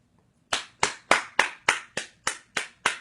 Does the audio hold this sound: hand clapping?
yes